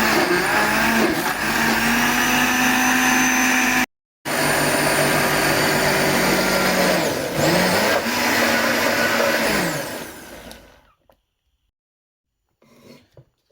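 A blender purées roasted vegetables with fresh garlic and ginger, roaring loud and close with a steady whine that breaks for a moment, shifts pitch as the mix thickens, then cuts off into near silence.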